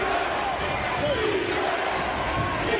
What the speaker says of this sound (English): Not a large crowd, but a little noisy here